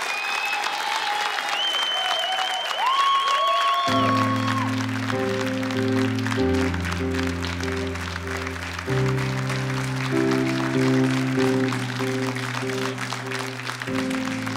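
An audience applauds at a TV singing contest, a steady wash of clapping that runs under gliding tones and then loud sustained music chords.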